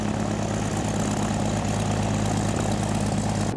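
A Piper Cherokee 150 single-engine propeller plane drones steadily just after takeoff on a student's solo flight, a loud, constant engine and propeller hum with no voices.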